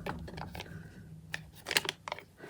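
Parchment paper window on a card in a junk journal crumpling, with several crisp crackling bursts and crinkles up close, alone and loud in short clusters.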